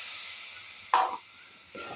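A sharp burst of hissing sizzle as cold water hits frying masala in a hot pan, fading quickly, followed by a second softer sizzle near the end.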